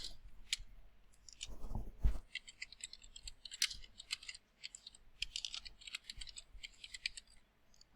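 Typing a table name on a computer keyboard in MS Access, with a steady run of close, crisp key clicks and a couple of heavier thumps near the start.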